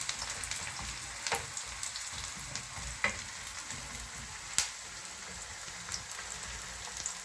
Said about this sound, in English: fry a bit in the olive oil until they get a bit translucent